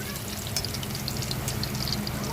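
Garlic frying in a pan as the first step of pinakbet, a steady close sizzle with faint crackles throughout.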